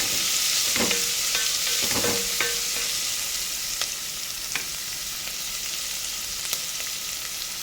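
Onions and green chillies sizzling in a little oil while a spoon stirs them, a steady close fry broken by scattered scrapes and clacks of the utensil against the pan.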